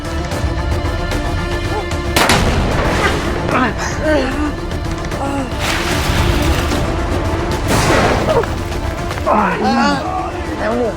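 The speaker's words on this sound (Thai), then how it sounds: "เสียงระเบิด" Several loud booming blasts burst out over a dense, chaotic background, with voices and music-like tones running throughout.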